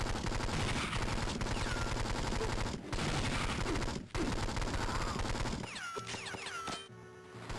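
Dense, continuous gunfire from the Game Boy Advance game 007: Nightfire, with loud overlapping shots and bursts running nearly throughout, broken by a couple of short gaps, then thinning into sparser electronic game effects near the end.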